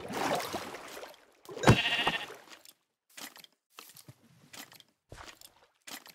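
Sheep bleating in the video game Minecraft: one loud, harsh bleat near the start, then several short, quieter bleats spaced apart with silent gaps between them.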